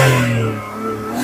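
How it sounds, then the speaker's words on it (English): A 2004–2010 BMW X3 E83 engine revs up close, a loud steady tone that dips briefly and then rises again, with no voices. "That's the rev."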